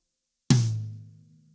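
A single rack tom, the high tom of a drum kit, struck once: a close, loud, resonant hit with a sharp attack and a tonal boom that rings and fades over about a second, with no other sounds.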